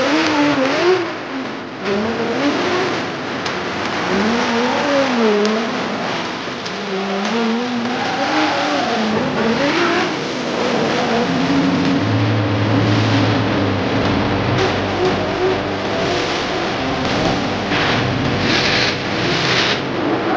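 A race car engine revs hard and loud at Three Sisters Race Circuit before qualifying, pitch climbing and dropping through several sweeps, then settling into a sustained high drone.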